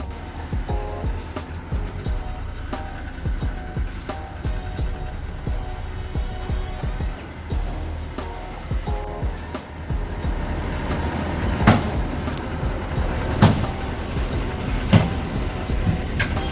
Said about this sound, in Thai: กำนันตุ๊กฮะขึ้นขับเจ้ากล้วยหอมโกเบรุ่น10นะครับ